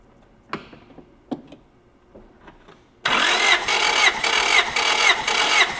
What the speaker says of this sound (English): step on the gas pedal, crank the engine.